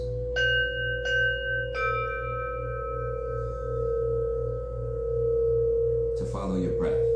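Meditation singing bowls struck three times in quick succession near the start, each tone ringing out and slowly fading over a steady low hum, followed by brief rustling at the end.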